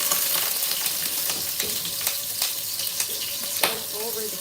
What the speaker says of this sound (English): So next is we're going also to fry